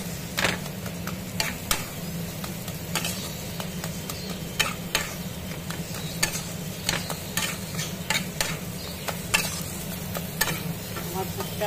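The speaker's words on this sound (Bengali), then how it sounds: "পুরটা আমার কষানো হয়ে গেছে, এবারে পুরটা নাড়িয়ে ফেলি" A spoon repeatedly scraping and stirring fried minced meat filling for potol dorma in a pan, sharp irregular clicks over a soft continuous sizzle and low hum.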